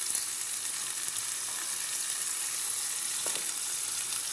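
Onions sautéing with salt in a pan, a steady bright sizzle with faint stirring scrapes, close and continuous, no talk.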